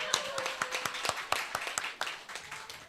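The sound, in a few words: congregation clapping hands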